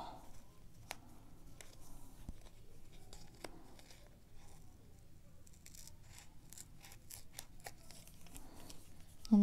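Scissors snip faux leather appliqué close to the stitching on a shirt for a satin-finish embroidery, giving faint scattered clicks and soft cuts over quiet room noise, with no voices.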